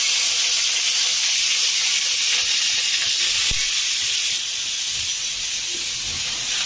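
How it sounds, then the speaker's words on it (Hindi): Cauliflower frying in very hot oil in a kadhai, a loud, steady, dense hiss and sizzle that continues evenly throughout. "और अभी फ्राई करते हैं पहले गोभी को।"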